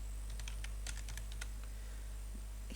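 Quick bursts of keystrokes on a computer keyboard, a short flurry of clicks that thins out and stops, close and clear over a steady low electrical hum.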